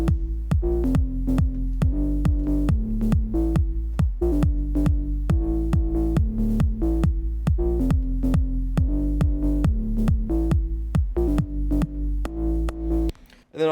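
Bright synth melody with a sine-like lead raised seven semitones to harmonize, looping over a steady low bass pulse and rhythmic clicks in a UK garage style, loud and continuous with no talking.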